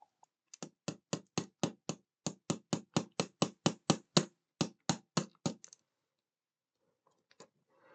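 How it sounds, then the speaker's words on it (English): A hammer taps small studs into a 1:2 scale Darth Vader model, about twenty sharp, evenly spaced knocks close up, in two runs separated by a brief pause, followed by near silence and a few faint handling sounds. "I'm using my hammer just to ensure that these are all pushed in all the way"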